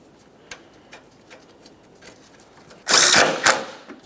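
A power tool drives in the AC compressor bracket mounting bolt on a 2006-2011 Honda Civic in one loud close burst of about a second, after soft ticking and handling noises, with no voices.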